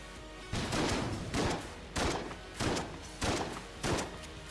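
Heavy weapon blasts from an RPG and a sawed-off shotgun in the video game Enter the Gungeon, six booming shots in a steady rhythm, loud and close, with no talk.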